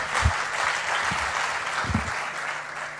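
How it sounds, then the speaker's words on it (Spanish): A crowd at a talk claps steadily through a full round of applause, with a few low thumps mixed in and the clapping easing slightly toward the end. "Podéis aplaudir,"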